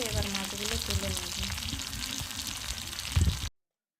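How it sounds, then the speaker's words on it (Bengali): Potato pieces fry in hot oil in a wok, giving a steady close sizzle with light stirring scrapes, a few heavier knocks near the end before the sound cuts off. "এরপর আলুগুলো লাল লাল করে ভেজে নেব"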